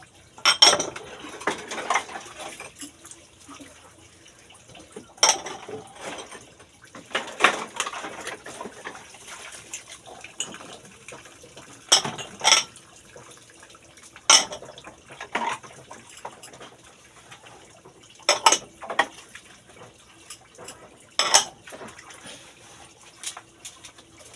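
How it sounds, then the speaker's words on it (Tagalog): Dishes being washed in a sink: scattered clinks and clatters of plates and cutlery against one another, with splashing and running water, in irregular bursts separated by quieter stretches, fairly close. "Naman hugas plato guys."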